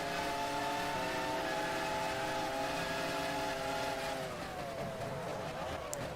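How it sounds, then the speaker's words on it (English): A Formula 1 car engine in the racing game F1 Challenge 99-02 screams loud and close, its high tonal whine holding steady and then dropping in pitch as the car slows. "Rubens Barrichello's engine is loud."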